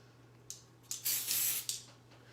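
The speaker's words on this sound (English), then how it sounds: "this is edible metallic shimmer spray" Edible metallic shimmer spray mists onto chocolate-covered strawberries in short aerosol bursts: a brief puff, then a longer hissing spray of about a second, faint against a quiet kitchen hum.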